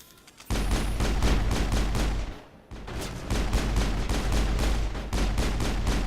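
Sci-fi weapons from the Mass Effect video game fire in rapid sustained bursts with heavy low booms, loud and close, broken by a brief lull before the shooting resumes.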